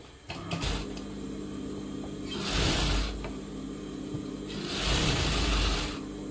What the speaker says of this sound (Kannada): ನೋಡಿ ಇವಾಗ ನಾನು ಲೈನಿಂಗಿಗೆ ಒಂದು ಸ್ಟಿಚ್ ಅನ್ನು ಬಿಡ್ತಾ ಇದ್ದೀನಿ